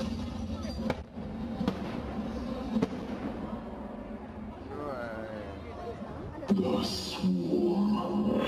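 A fire truck explodes into a massive fireball after a countdown, a loud explosive burst with crackling booms over the constant babble of a crowd, then a second swell of blasts and cheering toward the end.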